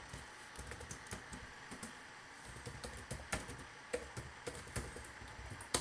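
Code being typed on a computer keyboard, heard as quiet, irregular bursts of close key clicks with short pauses between them and no voice.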